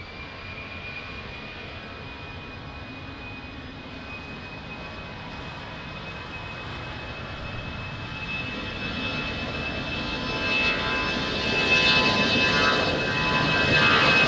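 An airliner takes off at Lisbon Airport from runway 20 in rain and wind, a steady jet roar with a thin whine that grows gradually louder as the engines spool up.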